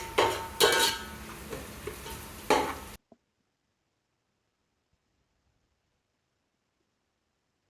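Onions being sautéed and stirred in a pan while cooking chicken biryani, with a soft sizzle and the scrape of a utensil against the pan for about three seconds, then near-silence.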